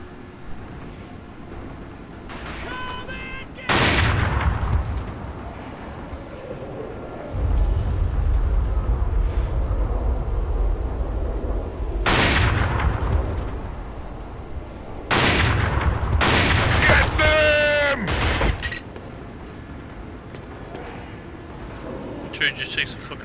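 Gunfire and heavy booms from the PS2 video game Killzone come in several loud bursts separated by quieter stretches of background game noise, with electronic chirps in between.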